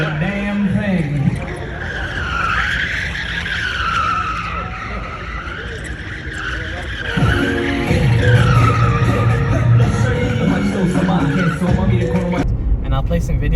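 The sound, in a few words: Tesla drifting, tires skidding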